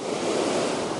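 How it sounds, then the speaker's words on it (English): A small river swollen by heavy rain rushes beneath a bridge near a waterfall in Da Lat, Vietnam, a steady, dense wash of flowing water close by with no voices. "this is just a little river going underneath the bridge, and we've had a lot of rain, so it's got quite a bit of water flow going here"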